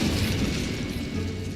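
An Incendio fire spell in Hogwarts Legacy erupts as a dense, roaring burst of flame. The rumble is loud and steady across the whole moment, with no voices.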